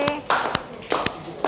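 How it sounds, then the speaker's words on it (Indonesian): A few scattered hand claps, sharp and uneven, from a small group of students in a classroom presentation over a brief moment, with faint murmuring behind them. "Oke, tepuk tangan dong."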